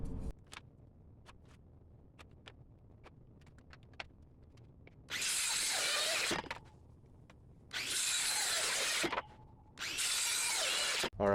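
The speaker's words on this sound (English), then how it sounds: "I've got all my holes drilled and everything" A power drill bores holes in plywood in three loud bursts of high whine, each lasting one to two seconds, preceded by a stretch of scattered faint clicks and handling knocks, with no voices.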